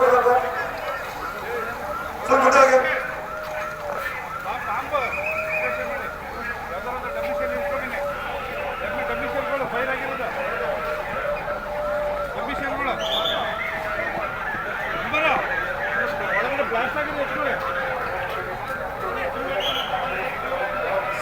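An ambulance siren wails continuously through busy street noise during an emergency bomb-blast mock drill in Chamarajanagar, with people talking and shouting over it throughout.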